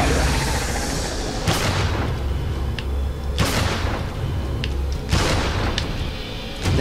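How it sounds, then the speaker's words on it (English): Hand cannon fired in Resident Evil 4: three heavy, booming shots spaced about two seconds apart, each a loud broadband blast over a constant rumbling game background. "The hand cannon can do some damage."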